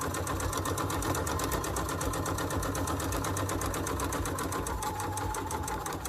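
A sewing machine stitches fabric at a sewing corner, a fast even rattle of needle strokes running loud and close for the whole stretch.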